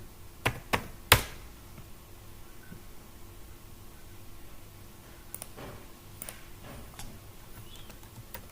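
Scattered keystrokes tap on a computer keyboard, a few sharp clicks early on and lighter taps later, close and quiet against a soft room hiss.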